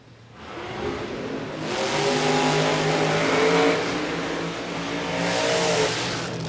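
Boosted drag race cars in QDRC Outlaws qualifying at Willowbank Raceway rev and launch, the engine roar swelling into a loud sustained howl of rising pitch and then easing.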